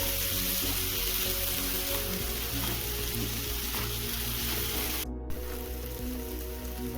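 Tomatoes simmering in a pan with salt until soft, making a steady close sizzle and crackle that runs unbroken, with faint clinks underneath.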